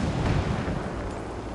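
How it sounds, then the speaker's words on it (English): Gunfire in Ghost Recon Wildlands as cartel fighters attack rebels, a dense, rumbling barrage of overlapping shots and booming bursts heard at a distance, continuous through the moment. "I hear gunfire."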